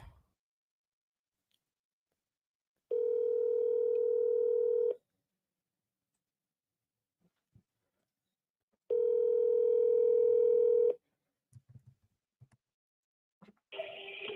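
Two long, steady telephone ringback tones sound several seconds apart on a phone call, clear and alone, followed by faint clicks.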